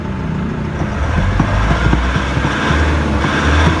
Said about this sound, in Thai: เดี๋ยวเรามาลองเร่งเครื่องยนต์นะครับ